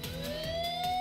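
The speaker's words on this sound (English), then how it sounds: "Apparently they weren't too far off, as the siren approaches in no time" Police siren approaching in the visual novel The Fruit of Grisaia, a steady rising electronic wail holding on, moderately loud with no talk over it.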